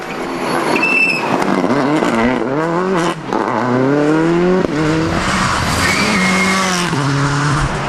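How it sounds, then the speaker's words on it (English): A Subaru Impreza WRC rally car runs a park stage, its engine rising and falling through gear changes with squealing tyres, loud and close as it passes through. "Niall McShay's first stage run in his hired Reddington-supported Impreza"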